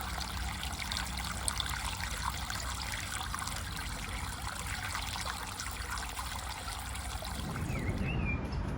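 Water trickles steadily from an iron-rich spring in a park, a soft continuous babble heard close up, with the flow growing a little stronger and splashier toward the end.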